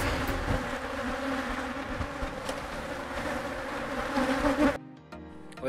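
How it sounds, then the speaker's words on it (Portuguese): A dense swarm of honey bees buzzes loudly and continuously around a hive during a honey harvest near a pickup truck, the close, intense drone cutting off abruptly near the end. "Olha os enxames."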